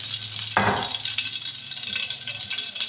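A spoon scrapes sharply once through a beef steak marinade in a bowl, then keeps stirring in soft, wet, squelching strokes, close up and with no talking.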